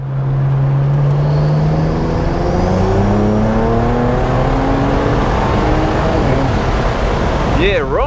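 A tuned 700 hp hybrid-turbo BMW N54 355i accelerating hard in a roll race against a tuned F90 M5, a loud rising engine drone heard from inside the car, revs climbing steadily through gears, with voices talking over it.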